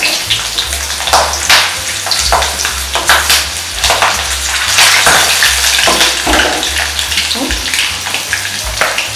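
Garlic, ginger, green chilies and dried chilies fry loudly in hot oil in a kadai, a dense crackling sizzle with stirring scrapes and bursts throughout, close and continuous.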